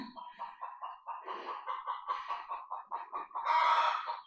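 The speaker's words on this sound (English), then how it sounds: "can you hear my chickens" Backyard chickens cluck in a steady, choppy run of short calls at moderate distance, rising into a louder, busier burst of agitated clucking toward the end.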